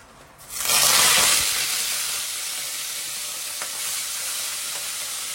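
Potatoes hit hot oil with a sudden loud sizzle that swells quickly, then settles into a steady, close frying hiss that continues to the end.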